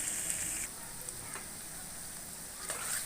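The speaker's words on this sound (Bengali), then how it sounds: "পেঁয়াজ আর কাঁচামরিচগুলি ভাজা হয়ে হালকা বাদামি কালার হয়ে আসছে" Chopped onions and green chilies fry in hot oil in a karahi, a continuous close hiss and crackle with a couple of faint stirring knocks, steady and without talk.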